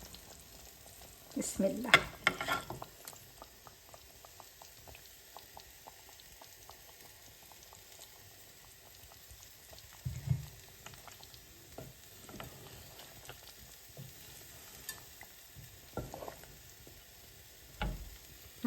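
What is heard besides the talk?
pangas fish frying with ridge gourd in a pan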